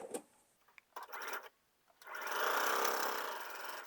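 A sewing machine stitches rows of a quilt block, with short stop-start bursts of fast mechanical whirring followed by a longer steady run, close up.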